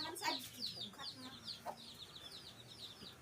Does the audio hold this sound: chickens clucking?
yes